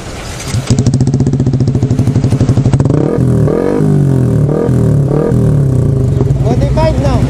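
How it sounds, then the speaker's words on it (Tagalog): A motorcycle with a loud modified exhaust fires up and revs, a rapid close-up popping idle giving way to repeated sharp throttle blips, with people talking over the engine. "Buhayin mo ang motor mo."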